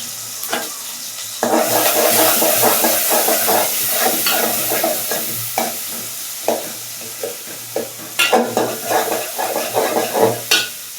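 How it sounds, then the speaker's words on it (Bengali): Dried chillies and onions sizzle in hot oil, with a loud hiss rising as they go in and repeated scraping stirs knocking through the frying. "শুকনো মরিচ দিয়ে দিলাম, পেঁয়াজটা একটু বেশি করে দিই।"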